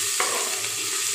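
Steady, close-up sizzling and crackling of spices frying in hot oil, with a brief stirring scrape near the start.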